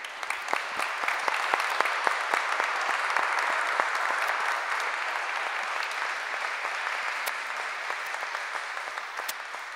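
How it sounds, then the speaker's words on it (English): Applause from the audience at the closing of a Data City conference, a sustained even clatter of many hands clapping, fairly soft and fading slightly toward the end. "So one more applause for you all."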